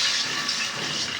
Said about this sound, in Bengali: সামান্য পরিমাণ পানি দিয়ে দিব